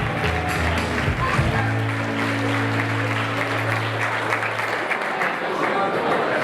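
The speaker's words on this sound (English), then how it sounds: "Nice round of applause, everybody." At a wedding, a crowd applauds steadily for several seconds after a song while a sustained musical tone fades out beneath the clapping, with a few voices mixed in.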